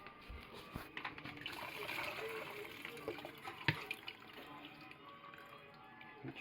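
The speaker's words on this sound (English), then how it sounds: "drain your pasta." Water runs off cooked pasta being drained in a home kitchen, a steady splashing flow into the sink with clatters and a brief sharp knock, voices faintly under it.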